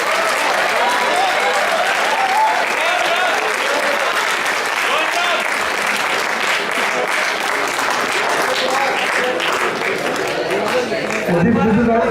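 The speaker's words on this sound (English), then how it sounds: "Give a very big round of applause to your friends." Sustained audience applause fills a large hall after volunteers are called to the stage, dense and steady clapping from many hands throughout, with no talk standing out above it.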